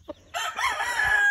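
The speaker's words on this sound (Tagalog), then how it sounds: "Tapos ito na yung mga manok natin." A rooster crows once, a short, fairly close call that rises and then holds, on a small farm.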